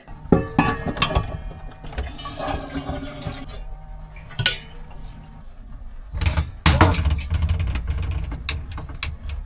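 Dishes and a kettle clink and clatter inside a camper van during a heavy winter rainstorm, with sharp metallic knocks and a door-like thud among steady background rumble from a diesel heater; people talk in between.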